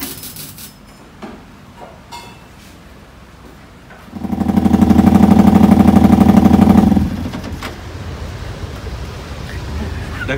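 A motorcycle engine fires up in a workshop and runs loud and steady at idle for about three seconds, then cuts back, with background noise before and after.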